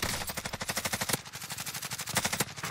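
Rapid, steady automatic rifle fire in the video game Call of Duty Warzone, a loud close burst of evenly spaced shots with a short break about halfway through.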